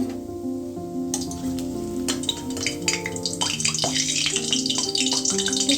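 Banana fritters fry in hot oil, sizzling steadily until a drop of water hits the pan and sets off a louder, crackling burst of spattering that keeps building.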